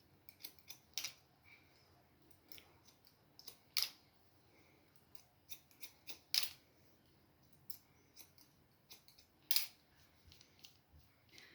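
Scissors snipping a man's hair during a haircut, giving a series of quiet, crisp clicks in irregular bursts with pauses between, close by and with no talking.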